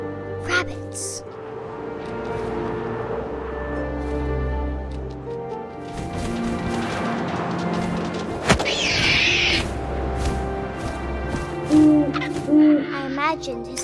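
An owl hoots a couple of times late in a scene from What Remains of Edith Finch, set among wind, ambient game music and soft nibbling sounds. A narrator speaks over much of it.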